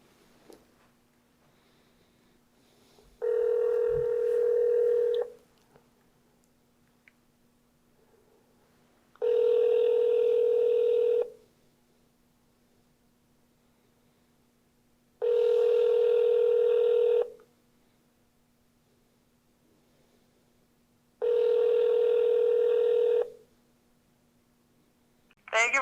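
Four long ringback tones repeat at steady intervals over a line while a call to a car dealership rings through, with a faint continuous hum underneath and no talking.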